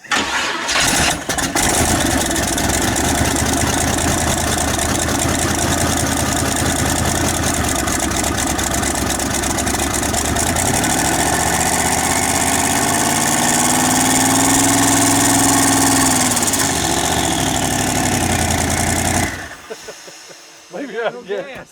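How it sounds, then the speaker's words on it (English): A carbureted engine that is nearly out of gas idles roughly and loudly for most of the stretch, its pitch sagging and rising as it sputters, then cuts out abruptly near the end. "the carburetor's trying to die on me"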